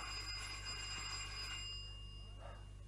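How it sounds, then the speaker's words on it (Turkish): A call bell rings in a Turkish radio drama, a bright sustained metallic tone with steady overtones running alone with no talk over it. "Şurada gördüğüm şey zil mi?"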